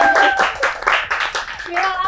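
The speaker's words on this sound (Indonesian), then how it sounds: "tepuk tangan kali ya viral" Hands clap quickly and steadily under loud, overlapping conversation and laughter in a casual talk-show chat.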